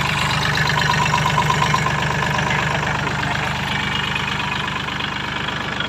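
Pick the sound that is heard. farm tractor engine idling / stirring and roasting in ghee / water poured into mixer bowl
farm tractor engine idling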